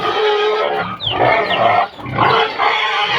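Pigs grunting and squealing loudly and continuously, several animals close by, with brief gaps in the noise.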